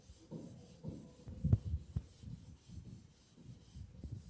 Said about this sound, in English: I'm going to take my sanding block here. I got 240 grit sandpaper.